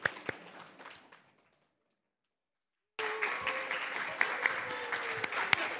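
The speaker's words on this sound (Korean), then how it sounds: "우리 나올 때 박수로 환영해 주시면 아이들이 참 좋아할 것 같습니다" A church congregation at a Christmas Sunday service claps as young children enter, with a brief burst of applause that fades into near silence, then returns as a fuller, steady round of clapping.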